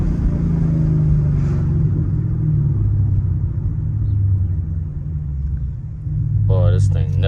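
A Ford Mustang GT in sport mode rumbles steadily while driving, a loud, deep, continuous engine drone close by with a slight swell near the end, and a voice briefly speaks over it.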